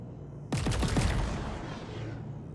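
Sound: weapon firing three shots in the video game Chorus

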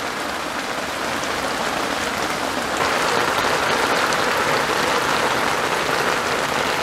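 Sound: heavy rain on a tent

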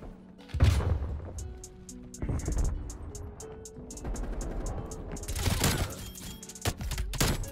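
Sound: MP5 gunfire in video game Call of Duty Cold War

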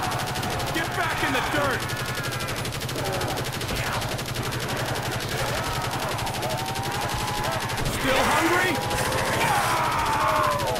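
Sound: sentry gun firing in Call of Duty Zombies video game

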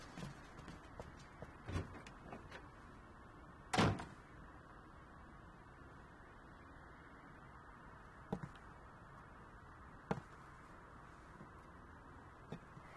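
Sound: door opening and closing

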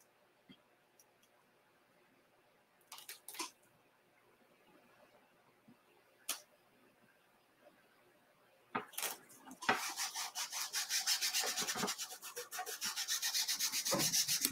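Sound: burnishing a rub-on transfer

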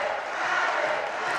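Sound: noisy basketball crowd cheering

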